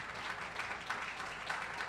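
Steady, distant crowd applause fills the whole stretch for players at a blind hockey game, a dense even wash with slight swells and no clear talk over it.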